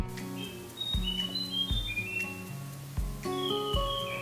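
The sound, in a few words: Vogelkop bowerbird calls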